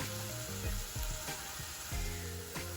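Green chili and eggplant sizzle steadily in a hot pan, a soft continuous frying hiss broken by a few light stirring scrapes, close and fairly quiet with no talking.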